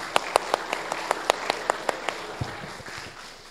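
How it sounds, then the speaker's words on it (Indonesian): At a young entrepreneurs' talk, an audience claps for Mas Sofi: a few loud, evenly spaced claps stand out near the front, then the sound thins into softer, scattered applause. "kita beri tepuk tangan buat Mas Sofi"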